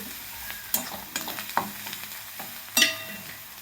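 Black field beans with a quarter spoon of turmeric being stirred in a pan, a few sharp scrapes and clinks of the spoon against the metal over a faint, steady sizzle.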